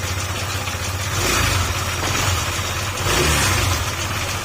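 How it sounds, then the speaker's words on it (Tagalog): A Honda ADV160 motorcycle engine idles close by, its running rising and falling in two gentle swells, with a fast ticking texture from a faulty camshaft under the steady rumble. "Ayan, tik tik tik tik na. Yan. Dahil po yan sa camshaft."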